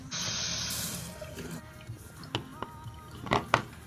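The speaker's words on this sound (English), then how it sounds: "I'm just gonna add a couple drops water, like a quick squirt of water" Water squirts from a bottle into homemade slime, a brief bright hiss at the start, then soft wet squelches and a few sharp clicks close by.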